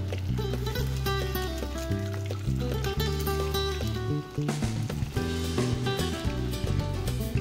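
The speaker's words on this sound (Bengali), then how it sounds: "সাবুদানার পকোড়াগুলোকে তো আমি উল্টে পাল্টে বেশ ভালো করে ভেজে নেব।" Sabudana pakoras fry in a pan of oil with a steady, continuous sizzle, largely buried beneath loud, tonal background music that runs throughout.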